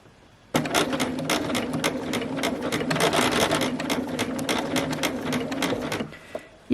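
A sewing machine runs slowly and steadily, stitching along the edge of a pocket opening on a pinafore dress, its needle clattering in a rapid, even rhythm for about five seconds before stopping.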